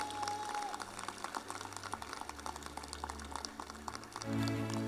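Graduation audience at Signal Hill Secondary applauding Ms. Majano Charles, a steady dense wash of clapping from a large crowd over a low hum, with a tonal swell near the end.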